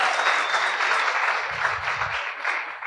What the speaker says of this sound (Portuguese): Uma aplauda ao Senhor.